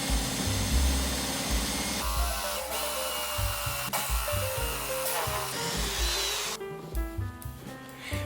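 Power drill boring into a wooden cup blank during handmade mug woodworking, a steady whirring motor with grinding cutting noise that shifts in pitch as pressure changes, close and alone without talk.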